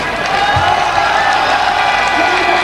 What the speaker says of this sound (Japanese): メインスタンドとそしてバックスタンドから惜しみない拍手。